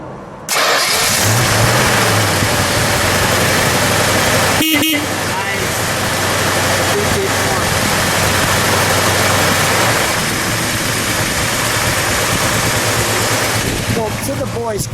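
A 1971 Plymouth Road Runner's 383 engine cranks and catches, then settles into a loud, steady idle that runs on and on, with a brief interruption partway through.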